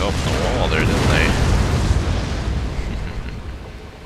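Loud, rumbling crashes and booming impacts as siege weapons batter through a wall during a battle in the video game Rome 2 Total War, a dense roar of debris that slowly fades.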